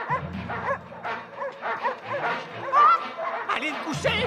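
A pack of dogs barking and yipping continuously in a French-dubbed Jet Li action film, close and loud, with whimpers mixed in and voices shouting beneath the barking.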